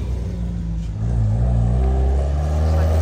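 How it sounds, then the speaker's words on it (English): A loud, noisy car drives past close by on a street in the spa town of Luso, Portugal, its engine rumbling and rising as it nears and passes, with no talk over it. "Oh, noisy car."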